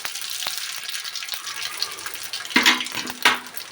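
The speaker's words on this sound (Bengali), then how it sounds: "ফোড়ন ফুটে গেছে বন্ধুরা," Mustard seeds, ajwain and radhuni splutter in hot oil with scattered sharp pops and crackles over a faint hiss, then two louder, splashier bursts near the end, heard close with no talking.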